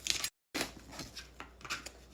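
Knife slicing a small piece off the side of a raw onion, a few short crisp cuts close up, with a brief silent gap between strokes.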